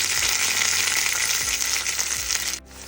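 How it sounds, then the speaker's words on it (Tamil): Mustard seeds, cumin, dried red chilies and curry leaves crackle and sizzle in hot oil, a bright continuous frying hiss with small pops and a clink near the end before the sizzle drops off. "கடுகு தாளிச்சு ஜீரகம், 4 காஞ்ச மிளகாய் சேர்த்து, கருவேப்பிலை சேர்த்துக்கிறேன்"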